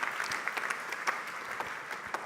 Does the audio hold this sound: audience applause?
yes